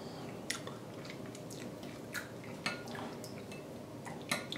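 Close, moist chewing and small mouth sounds while someone tastes a pastor pork dish in a home kitchen, with a few sharp clinks of a utensil against a pot or bowl over steady background hiss; no talking.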